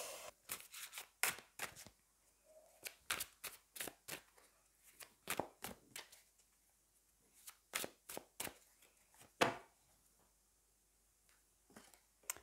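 Tarot cards shuffled and drawn by hand, a rapid series of crisp riffling bursts and soft slaps in irregular clusters, close and clear in a quiet room with no talk.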